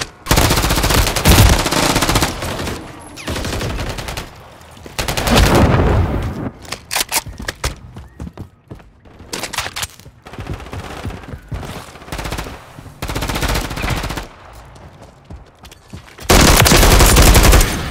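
Automatic and single gunfire in the Call of Duty MW3 video game, with long loud bursts of rapid machine-gun fire alternating with short pauses and scattered shots, close and dense, with some game effects mixed in.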